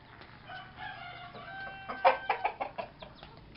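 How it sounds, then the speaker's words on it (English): A rooster in a garden clucks and crows in a short burst of calls, fairly close and clear, with soft background ambience and no talking. "There is Lazarus the rooster."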